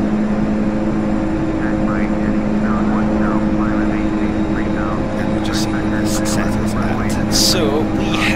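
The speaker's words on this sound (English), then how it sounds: "I am going to retard the throttle down to flight idle" DHC-6 Twin Otter turboprop engines in Flight Simulator X, throttled back to flight idle during descent; a steady, loud drone with constant tonal hum runs throughout, with faint clicks near the end.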